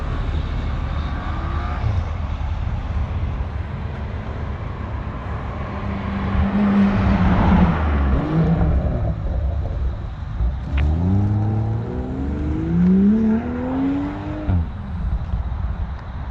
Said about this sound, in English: That car has a very distinct sound.